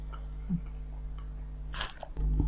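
Crispy durian being bitten and chewed up close, a few soft crunchy bites with a louder burst of crunching near the end.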